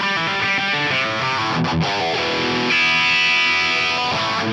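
An electric guitar run through distortion with a chorus modulation effect placed after it on a Nano Cortex, playing sustained, heavily saturated chords and notes with a wavering, phasey shimmer, loud and alone without speech.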